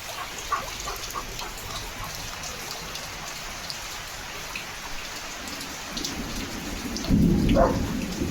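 Rain falls steadily with a constant hiss of drops, and near the end a low rumble of thunder swells in.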